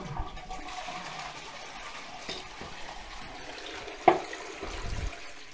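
A toilet with a newly fitted flush mechanism is flushed, giving a low, steady rush and swirl of water with a sharp click from the flush button partway through and a gurgle rising near the end.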